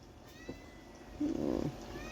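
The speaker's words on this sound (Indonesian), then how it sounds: "Tuh ribut aja kucing tuh." A cat drawn by the smell of fried fish lets out a short, faint vocal sound, a brief meow-like call rising over a quiet, steady background.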